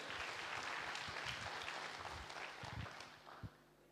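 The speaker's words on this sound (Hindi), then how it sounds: "एक बार पुनः जोरदार तालियां इन बच्चियों के लिए।" Audience applause at a cultural program, dense clapping from a crowd that is loud at first and gradually thins out, fairly distant.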